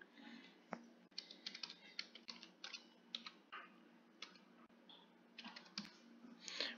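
A password is typed on a computer keyboard in quick bursts of light key clicks with short pauses, quiet and close over a faint steady hum.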